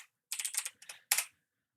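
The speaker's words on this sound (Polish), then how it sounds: "Jak widać, trzeba napisać tylko Ubuntu." Quick bursts of typing on a computer keyboard while entering a search for Ubuntu Linux, close and crisp clusters of keystrokes separated by short pauses.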